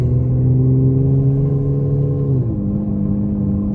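A faulty car with a slipping torque converter and stuttering transmission pulls away on a test drive, a loud close engine drone whose pitch holds steady and then drops sharply as it shifts gear partway through.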